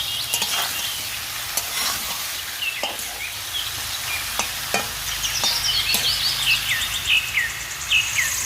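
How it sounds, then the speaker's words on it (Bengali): Garlic sizzles and fries in a pan with spices as it is stirred, a steady close crackle with occasional scraping clicks, and no talk over it. "রসুনটাকে আর একটু সময় ভেজে আমি দিয়ে দিচ্ছি একটু পানি, মরিচের গুঁড়া, হলুদের গুঁড়া, লবণ, একটু ধনিয়া গুঁড়া"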